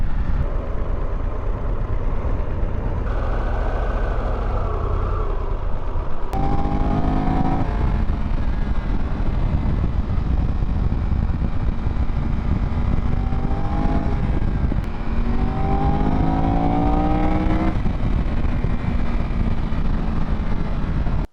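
A 2022 Triumph Tiger 1200 GT Explorer motorcycle climbs a mountain road, its engine rising and falling through repeated accelerations and gear changes, loud and close over steady wind rush.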